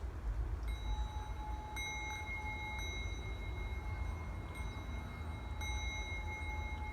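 A singing bowl rubbed with too little pressure gives a thin, faltering ring: steady high overtones that drop out and restart every second or so over a constant low rumble and hiss.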